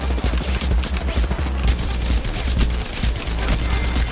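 Rapid, dense automatic gunfire in Apex Legends, a loud sustained fusillade of closely spaced shots over a heavy low thump throughout.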